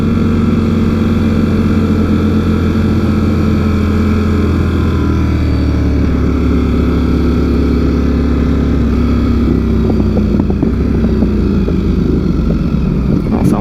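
Motorcycle engines from a large riding group on the road, a loud continuous droning roar with shifting pitch that rises and falls over the whole stretch, heard without talking.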